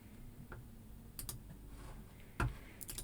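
Computer mouse clicks while working in software, a few sharp, close clicks spread over a few seconds against a quiet background hum.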